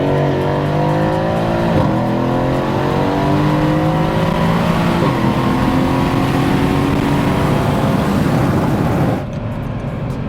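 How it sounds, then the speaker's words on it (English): A fast car's engine accelerates hard with the window down, rising through several gears in loud, climbing sweeps with brief dips at each shift, before easing off near the end. "if you wanted to learn something and not just hear the engine"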